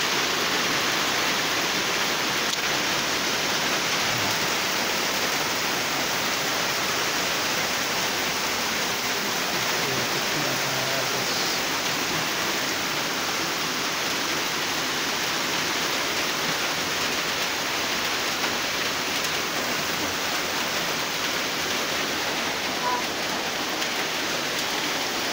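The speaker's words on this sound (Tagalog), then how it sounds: "Lakas ang agos ng sapa." Heavy rain pours down steadily alongside a strongly flowing stream, forming a dense, unbroken wash of noise that stays close and even for the whole stretch, with no voices.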